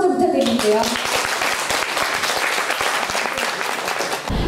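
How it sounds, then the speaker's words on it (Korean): Applause from the audience at a German-style floristry demonstration, a dense steady wash of many hands clapping loudly and continuously, with a brief voice at the very start. "박수 먼저 부탁드릴게요"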